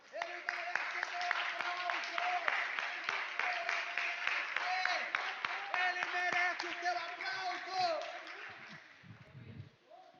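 Church congregation applauding during a service, dense steady clapping from many people under a sustained voice that keeps speaking over it, fading out near the end.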